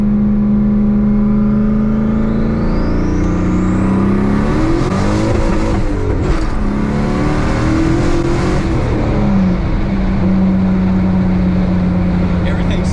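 A turbocharged Camaro is brake-boosted and launched hard, its engine holding a loud, droning rev before surging and climbing steadily in pitch as it accelerates, close and continuous throughout.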